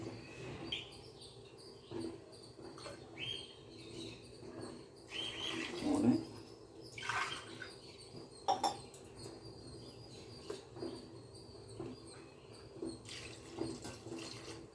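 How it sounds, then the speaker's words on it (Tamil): Water is poured into a pot of parboiled rice and coconut milk for pulao, giving faint intermittent splashes and gurgles at close range, with a few louder pours in the middle. "நான் வந்து நாலு டம்ளர் தண்ணி ஊற்றிருக்கேன்"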